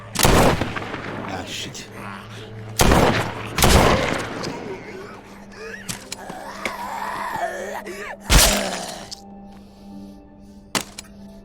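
Gunfire in the video game Ain't No Saint: several loud, sharp shots spaced apart across the clip, heard close and up front, with a voice speaking briefly between them.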